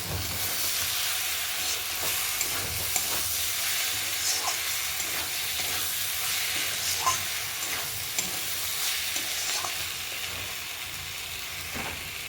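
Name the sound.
stirring cabbage curry after adding sugar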